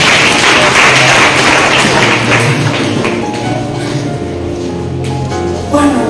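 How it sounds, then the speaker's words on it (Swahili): A church congregation claps together in praise during a sermon, brisk, loud clapping that fades and thins over several seconds. "Tupigie Bwana makofi."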